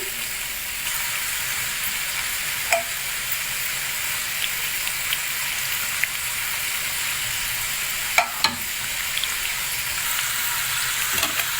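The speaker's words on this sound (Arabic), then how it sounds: "ونقوم محمرنا في الزيت" Italian sweet dough fries in hot oil with a steady, even sizzle and hiss that runs throughout, broken by a few brief crackles and pops, with no talking.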